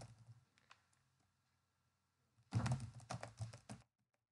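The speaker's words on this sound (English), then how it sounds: "Now just type the word." Keys on a computer keyboard are typed in a quick, soft burst of clicks after a quiet pause, entering a word into an Excel spreadsheet; faint and close, with no talk.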